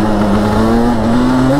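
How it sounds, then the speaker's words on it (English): An ATV engine revs steadily as the throttle is rolled on, a loud, close, continuous drone whose pitch climbs slightly over a short stretch. "you got to roll on the throttle, let go"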